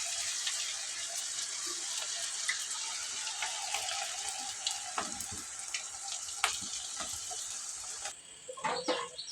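Maida flour pakoda batter sizzles and crackles steadily in hot oil, a continuous close frying hiss with occasional pops and faint utensil clinks near the end.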